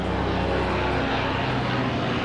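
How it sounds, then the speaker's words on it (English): A helicopter flying overhead outdoors, a steady loud broadband engine and rotor roar that fills the whole moment without a break. "wait for the plane to go over, it's a helicopter actually"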